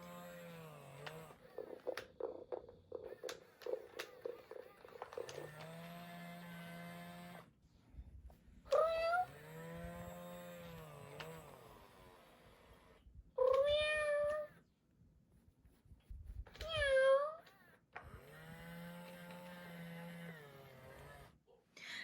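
A Joy for All robotic tabby companion cat meows repeatedly in loud, drawn-out electronic mews, separated by a low motor hum as it moves, alone and close by.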